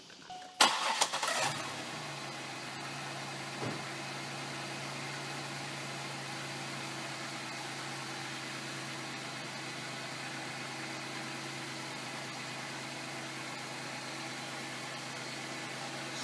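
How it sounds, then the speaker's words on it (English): A 1999 Pontiac Grand Prix engine, with a new belt tensioner, cranks briefly and catches, then settles into a steady, smooth idle hum that continues unbroken without knocking. "let's turn the motor over and see what happens"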